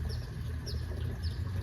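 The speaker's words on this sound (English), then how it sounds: "A sweet little bird has joined us" A small songbird gives faint, high chirps repeating about three times against a steady low hum and background noise.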